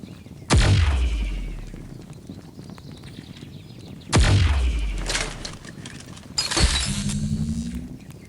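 Weapon shots in the mobile shooter Pixel Gun 3D, fired one at a time with pauses between them, three loud, sharp blasts, each followed by a decaying tail.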